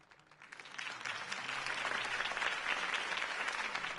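Crowd applause in a Batman video game swells from a quiet start to a full, sustained roar of many clapping hands.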